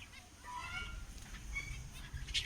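Pet birds kept at home give a steady run of honking, goose-like calls through the whole stretch, fairly close and loud, with a low rumble of background noise underneath and no talking.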